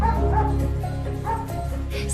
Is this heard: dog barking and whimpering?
yes